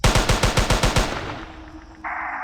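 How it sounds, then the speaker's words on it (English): Rapid SMG fire in the video game Jurassic Park Hunter Legends: a loud, fast burst of about ten shots over one second, then a fading echo and a steady game tone. "let's get the SMG out"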